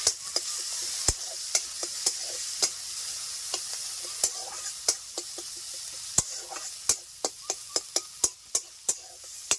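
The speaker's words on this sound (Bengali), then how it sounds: "তেল গরম হয়ে গেছে, পুরনে দিয়ে দিচ্ছি রসুন কুচি, পেঁয়াজ কুচি আর কাঁচা লঙ্কা কুচি দিয়ে দিচ্ছি একসাথে" Steady frying sizzle of chopped garlic, onion and green chilli in hot oil, with repeated sharp clicks of a spatula stirring the pan throughout.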